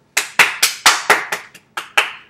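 A single person claps about nine times at a steady, slightly uneven pace during a children's Mother's Day show. The claps are close, sharp and alone, with no talk over them.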